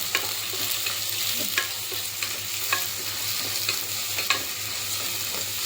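Two thinly sliced onions sizzle steadily in a pan for a soybean curry, with recurring scrapes and clicks as they are stirred. The frying is close and even, and no one speaks.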